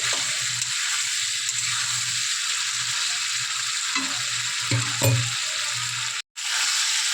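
Potatoes, tomatoes and spices sizzle steadily in hot oil in a pan, with scraping stir strokes near the end and a brief break in the sizzle just before it resumes.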